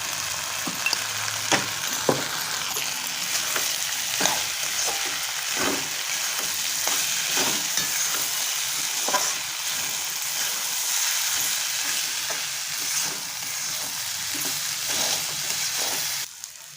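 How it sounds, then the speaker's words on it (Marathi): Rice sizzles and fries in a pan with green chili and mild Kashmiri red chili powder, a steady close crackle broken by repeated scraping stirs, with no talking. "परतून झालाय तांदूळ."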